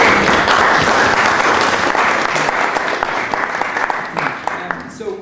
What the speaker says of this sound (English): Ladies and gentlemen, your panel, give them a round of applause.